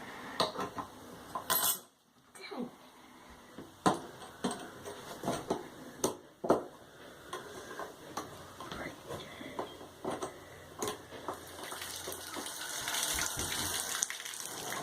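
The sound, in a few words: water running from tap to test for leaks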